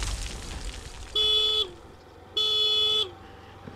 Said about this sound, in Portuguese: Ouviu aí? Deu duas buzinadas.